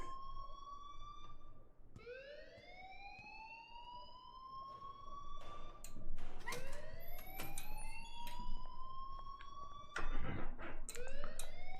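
An electronic alarm in the video game Life is Strange wails in rising electronic sweeps, repeating every few seconds, loud and continuous, with brief bursts of other sounds mixed in.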